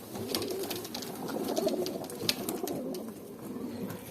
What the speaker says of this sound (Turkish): Bu akşam çıkacak olan kuşlar şöyle bir göz atın.